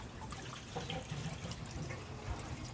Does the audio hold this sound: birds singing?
no